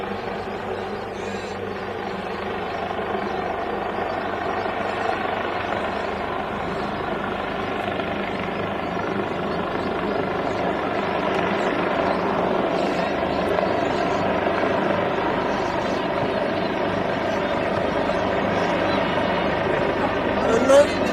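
A police helicopter flies overhead during a women's NPLW Victoria soccer match between Heidelberg United and Essendon Royals. It makes a steady, broad rotor-and-engine drone that holds evenly throughout, with a commentator talking over it.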